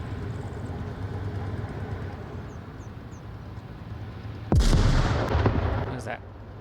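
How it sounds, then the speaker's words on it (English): A grenade goes off in a team shooter match, one sudden heavy boom near the end that rumbles and fades, following steady background game noise and distant gunfire. "Last grenade that went off."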